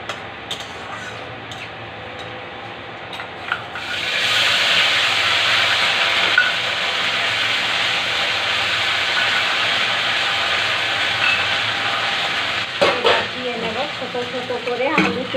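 Ginger and dried chilli paste hits a hot pan for a vegetarian potato and chana dal dish, bursting into a loud, steady sizzle and hiss after a few quiet seconds, with a few stirring clatters near the end.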